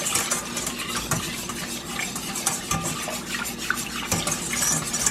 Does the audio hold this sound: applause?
no